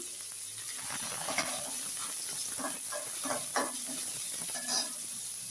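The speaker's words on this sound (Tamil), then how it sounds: "பொடியாக நறுக்கி சேர்த்துக்கோங்க. கொஞ்சம் நல்லா வதக்கிடலாம்." Finely chopped onions sizzle and hiss in a hot pan while sautéing for mushroom masala, with intermittent scraping and stirring sounds from a utensil against the pan.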